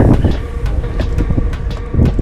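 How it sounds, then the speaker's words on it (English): Wind gusts roar across the microphone while fishing outdoors, a loud, low rumbling buffet that swells and fades in waves over a couple of seconds. "Here comes the wind."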